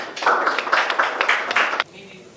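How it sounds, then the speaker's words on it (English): Audience at a startup summit breaks into a sustained round of clapping for about two seconds, dense and fairly loud, then cuts off abruptly into quieter room noise. "Give yourselves a round of applause."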